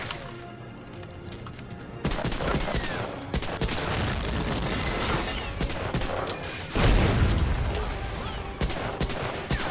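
Dense video game gunfire crackles in rapid overlapping bursts, steady and loud, growing heavier near the end as the shooting keeps up with only brief gaps.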